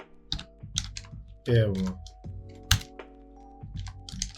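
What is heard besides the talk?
typing code on a computer keyboard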